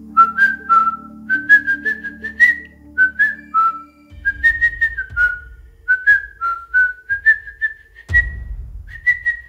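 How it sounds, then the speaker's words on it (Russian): A person whistles a lively tune of short rising and falling notes, loud and close, with low thumps and footfall-like noises underneath during the second half. "Тогда я буду свистеть, раз ты боишься."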